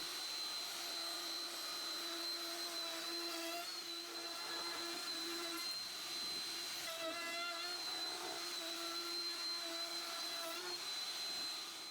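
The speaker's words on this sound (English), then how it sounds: "I got a special flattening carbide cutter for this that does 1-inch passes." A desktop 4030 CNC router upgraded for furniture work flattens a wood slab with a carbide flattening cutter, a continuous loud high whine with steady drone and slight pitch shifts as it cuts, with no voices.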